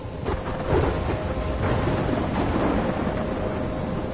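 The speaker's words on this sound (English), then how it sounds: "I'm trapped in a storm?" Thunderstorm in the video game Life is Strange: a steady roar of heavy rain with rolling thunder rumbling throughout, loud and continuous with no voices.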